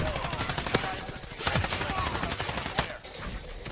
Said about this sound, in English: I'm shooting just to shoot at this point.